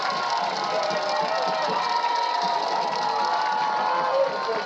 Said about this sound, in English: As the crowd from Los Fresnos is making some noise